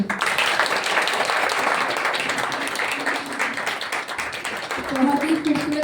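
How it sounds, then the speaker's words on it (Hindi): An audience claps for the actors after the Hindi drama Prem Parinde at a theatre festival, a dense, sustained round of applause with a voice rising over it near the end. "ये तालियां मुझे लग रहा है बहुत कम पड़ रही है दोनों के लिए।"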